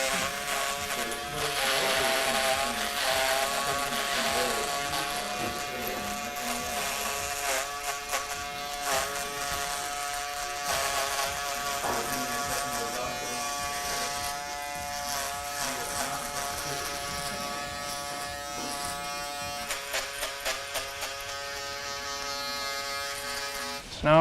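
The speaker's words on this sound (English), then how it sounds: "So now what I'm gonna do is get my shaver." At a barbershop, an electric shaver buzzes steadily up close while trimming along a beard line, its whine wavering in pitch as it presses against the hair and briefly stuttering near the end.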